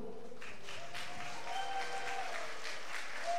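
Sustained applause from the audience at a student rock concert, a dense, even wash of clapping that fills the room without a break.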